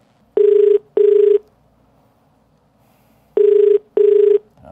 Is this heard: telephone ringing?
yes